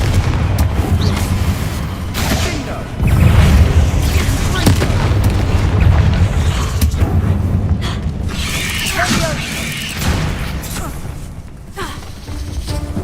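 Confringo blasting spell from Hogwarts Legacy, heard as repeated booming explosions over a dense, continuous layer of game combat noise and rumble, with brief voice sounds mixed in.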